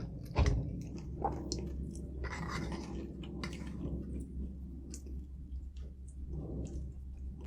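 Close, moist chewing of a mouthful of rice, pork and egg, soft squishy bites and lip smacks repeating steadily with no talk.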